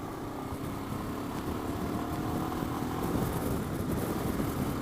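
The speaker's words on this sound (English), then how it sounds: "I'm also hearing more of a tick low down in the engine" A Royal Enfield Himalayan motorcycle engine runs with a steady, low rumble and faint ticking, heard continuously at moderate volume without speech.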